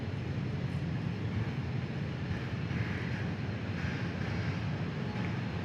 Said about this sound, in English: An A350 1000. Awesome. An Airbus, even better.